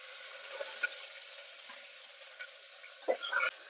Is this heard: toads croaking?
no